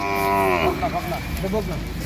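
Sahiwal cow lowing at a crowded cattle market, one long drawn-out moo with a calf nearby, heard close and loud over steady crowd chatter and background voices.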